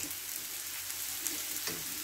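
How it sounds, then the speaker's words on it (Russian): A steady, close sizzle of onion and carrot frying in vegetable oil, with a few soft clicks and pops from stirring and no talking. "На небольшом количестве растительного масла обжариваем лук, морковь."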